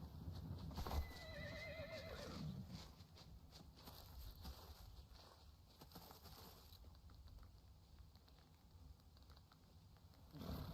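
A horse in the video game LoreRim 5.0 gives a wavering, high whinny early on, followed by shuffling hooves and faint background noise.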